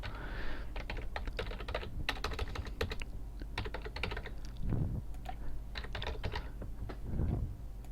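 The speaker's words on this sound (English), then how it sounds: "So you just need to type in some information about yourself." Fingers tap out a rapid, uneven run of keystrokes on a computer keyboard, close and fairly quiet, with short pauses between bursts and no talking.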